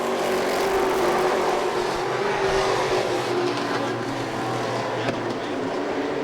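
Stock cars race wheel to wheel at Lee USA Speedway during the 2006 Oktoberfest event, a steady, dense engine roar filling the whole stretch without a break and with no talk over it.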